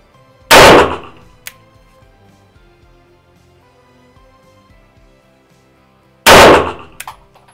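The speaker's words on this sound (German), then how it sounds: "jetzt sind wir hier auf dem Schießstand und ich schieße jetzt das erste Mal mit meiner neuen CZ75" Two sharp, loud pistol shots from a CZ handgun crack out at an indoor shooting range about six seconds apart, each with a short echoing tail, and faint clinks follow between them.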